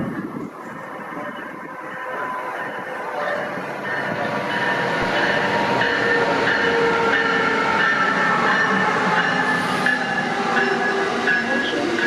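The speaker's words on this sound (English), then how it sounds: "Next up is Northeast Regional 118 to New York Penn Station with ACS 64 646 on the point." Amtrak Northeast Regional train headed by ACS-64 electric locomotive 646, bound for New York Penn Station, rumbling steadily past with rising rail and wheel noise that builds to a sustained loud roar, with no talk.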